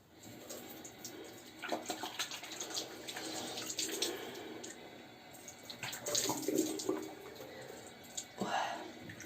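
Water runs from a tap while someone washes their face, uneven splashing and gurgles, close by and steady, with no talking over it.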